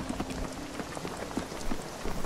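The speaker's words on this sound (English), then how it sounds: "It's raining." Rain patters steadily in Spiritfarer, a soft, even wash of drops tapping on surfaces with a faint tonal hum underneath, alone without any talk.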